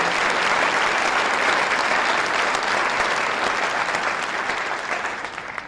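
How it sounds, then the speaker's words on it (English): An audience at a civilian preparedness training event applauds in a steady, even roar of clapping that holds for several seconds and eases slightly toward the end. "Let's give him a round of applause."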